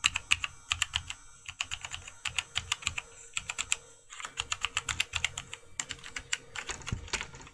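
Typing on a Logitech G910 Orion Spark mechanical gaming keyboard produces rapid, uneven bursts of crisp tactile key clicks close to the mic, with brief pauses between flurries and no voices.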